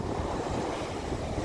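Rushing surf noise with wind buffeting the microphone, a steady broad wash of waves without any voices.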